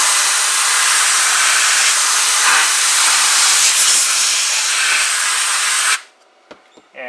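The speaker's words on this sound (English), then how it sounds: "Or, if you're in a big hurry, you could take some compressed air." A loud, steady hiss of compressed air blasting over a water-damaged NuTone IM3003 intercom master station circuit board, holding for about six seconds before cutting off abruptly, followed by a few faint clicks.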